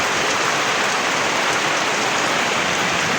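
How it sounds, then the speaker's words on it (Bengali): Steady rain pours down over a home courtyard flooded with runoff, a dense, continuous hiss of drops hitting water and surfaces with no pauses, loud and close throughout. "বৃষ্টির ছলো ছলো শব্দ শুনতে মধুর লাগে"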